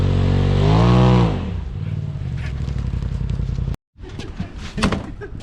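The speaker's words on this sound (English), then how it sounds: "driving his RZR, mud bogging, getting me a little muddy" Polaris RZR Turbo 1000 off-road vehicle mud bogging, its engine roaring loudly and revving up and down before dropping to a rough, sputtering idle, with a brief cut and then crackling splashes and rumble.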